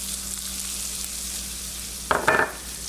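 Garlic sautés in a pan with onions and salt, a quiet steady sizzle that flares into a brief louder crackle of stirring near the end.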